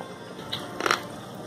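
A single quick, crisp crunch of a bite into crispy roasted guinea pig (cuy asado), close and brief, over faint room background with no talking.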